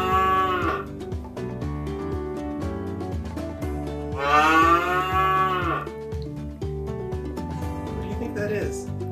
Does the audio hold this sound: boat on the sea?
no